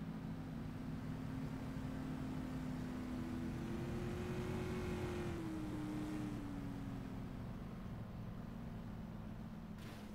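Winged supermodified race cars roar around Indianapolis Raceway Park in a side-by-side finish, a loud continuous engine drone whose pitch swells and falls as the pack sweeps past, with no talk.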